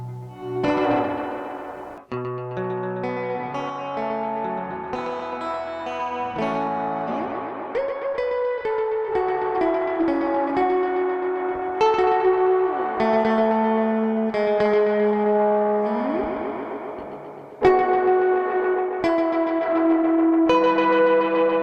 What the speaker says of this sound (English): It's going through a space echo and some other crazy stuff.